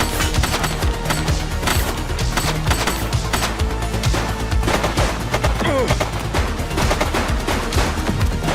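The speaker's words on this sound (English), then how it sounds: "She's shooting!" Dense, sustained automatic gunfire in The Precinct video game, loud continuous bursts of shots overlapping with no break across the whole stretch, close and intense.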